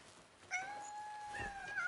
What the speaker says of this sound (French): Et notre chat.